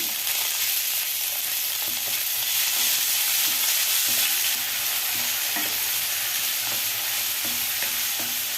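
Onion frying in hot oil with urad dal, curry leaves and asafoetida in a pan for avalakki chitranna, a constant bright sizzle broken by repeated scraping strokes of a stirring spoon, with no talk.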